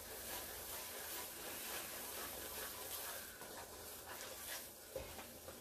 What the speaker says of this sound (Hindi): अच्छी तरह से हमें भूनना है इसे ताकि हमारा जो दही का पानी वो भी अच्छी तरह से ड्राई हो जाए